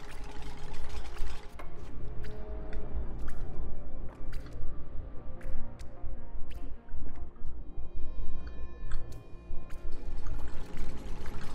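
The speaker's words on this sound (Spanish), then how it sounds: "¿Por qué suena goteo?" Water drips in the video game Oxygen Not Included, as a string of small, sharp, irregular plinks over a busy mechanical hum and clatter of machinery, with no voices.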